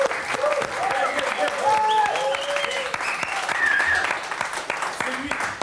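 A studio audience at a live CANAL+ television broadcast applauds in dense, continuous clapping that lasts several seconds, with voices faintly mixed in.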